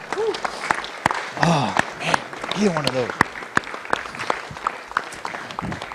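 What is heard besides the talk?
audience applause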